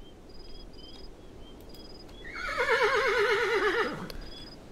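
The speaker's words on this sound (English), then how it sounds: "it sounds like our horse got spooked" A spooked horse neighs in the western video game Sinister Stars, a loud, close whinny with a shaking, wavering pitch that rises and then falls away over about a second and a half, with faint high electronic tones before it.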